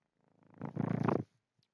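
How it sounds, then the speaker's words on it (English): A cat purrs close against a microphone in a short, soft rumbling burst that swells and then stops, with no talking. "you can hear the cat purring on the mic"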